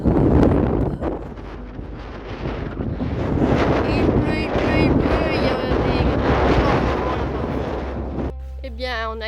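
Strong wind roars and buffets the microphone continuously in Séné, Brittany, with a faint rushing of water underneath and a brief voice near the end.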